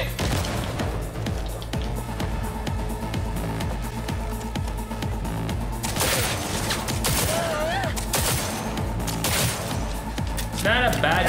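Loud, dense gunfire from a gun with target lock in Cyberpunk 2077, continuous rapid shots mixed with game effects and a few sharp crashes, while someone talks over the action.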